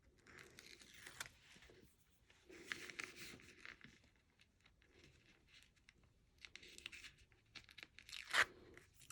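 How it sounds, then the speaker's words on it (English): Tear and tape adhesive being peeled off a paper craft project, several short quiet ripping and crinkling bursts separated by pauses, close up. "And then I'm just going to take off this tear and tape."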